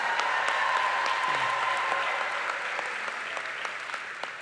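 Audience applause at a university commencement ceremony, a dense, steady clapping from a large crowd that carries through the whole stretch and slowly tapers, with no speech over it.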